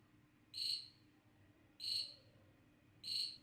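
A Raspberry Pi Pico imitates a cricket, giving three evenly spaced, shrill electronic chirps about a second apart over a quiet room hum.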